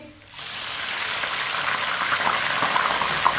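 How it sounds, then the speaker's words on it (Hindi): Water poured into a hot pan of lightly browned onions bursts into a loud, steady hissing rush after a brief quiet start, continuing without a break. "इसमें थोड़ा सा पानी डाल लेंगे,"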